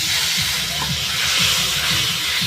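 Ground spice paste water hits a hot pan for a dish of pabda fish with poppy seed paste, giving a loud, steady hiss of sizzling steam that runs throughout with no talk.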